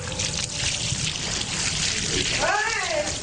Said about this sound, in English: here's the bucket of water in his hand